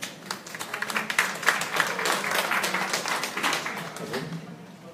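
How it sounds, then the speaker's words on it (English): An audience at a university gathering at FEU Manila claps in a steady, dense patter lasting several seconds, with a faint voice or two mixed in. "Let's give him a round of applause."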